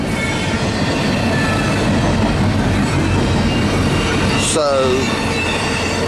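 A CSX intermodal freight train led by ES44 and AC44 locomotives rolls past in wind and rain with a loud, steady rumble of wheels and cars, a brief wheel squeal near the end, and someone speaking briefly.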